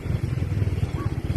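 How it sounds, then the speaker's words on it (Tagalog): A motorcycle ridden along a road in Malasiqui, Pangasinan, its engine a steady low throbbing drone that pulses evenly throughout, close and fairly loud with no talk over it. "Nagmamaneho ng motor si Jong Aragon papunta sa kanilang bahay para mag-usap-usap sila"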